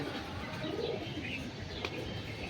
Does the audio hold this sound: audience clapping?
no